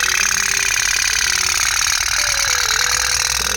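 A toy putt-putt steam boat engine runs steadily in water, giving a continuous close, loud sputtering buzz with no pauses over the whole stretch.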